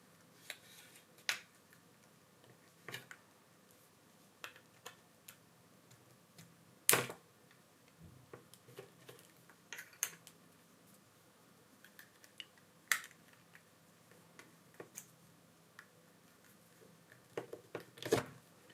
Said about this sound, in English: you take a pry tool, a plastic pry tool, and you go around for making the clicking sounds to disassemble the frame here